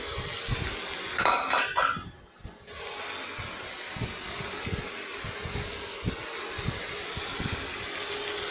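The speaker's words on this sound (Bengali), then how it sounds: "এর মধ্যে বড়ি বেগুন ভাজাগুলো দিয়ে দিলাম" Fried lentil dumplings and fried eggplant are tipped into a pan for a Bengali vegetable dish. A metal spoon clatters early on, then gentle rhythmic stirring and scraping goes on over a low sizzle.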